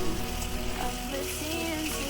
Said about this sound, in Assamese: তেতিয়ালৈ আমি এনেকৈ ভাজি থাকিম